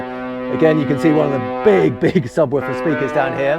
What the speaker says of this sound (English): Oh, off goes the horns again.